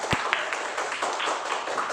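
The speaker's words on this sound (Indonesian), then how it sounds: "Kasih tepuk tangan dulu untuk kelompok." Classroom applause for a student group after scores are announced, a steady patter of many hands clapping at moderate distance throughout, with one sharp close clap near the start.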